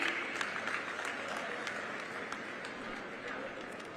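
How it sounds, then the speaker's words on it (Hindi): A crowd applauds at a university event attended by Yogi Adityanath, a continuous, fairly faint patter of many hands clapping heard from some distance, steady and without voices standing out. "आप सभी की जोरदार तालियां बनी रहे"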